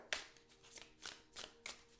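Tarot cards being shuffled and drawn by hand, a series of four or five quick soft riffling flutters in a fairly even rhythm, close and quiet with no voices.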